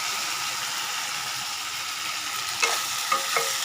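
Ivy gourd curry sizzles steadily in a pan over low heat, a constant bright frying hiss, with a few sharp scrapes of a spoon stirring near the end.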